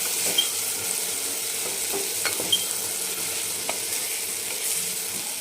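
A ground paste of peanuts, garlic, ginger and coriander is stirred into frying masala for a brinjal dish, a soft steady sizzle with occasional light spoon clicks against the pan, no voices.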